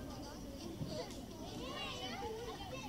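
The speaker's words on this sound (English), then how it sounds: "I hear kids playing." Children playing in a park: a steady wash of distant kids' shouts, squeals and chatter mixed together, continuous and moderately faint throughout.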